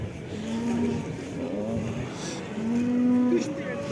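Cattle at a livestock bazaar in Karakol call out in several long, loud moos, near and overlapping, over a steady crowd murmur of the busy market.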